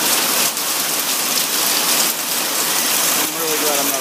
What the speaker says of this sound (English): And the hail's coming down now.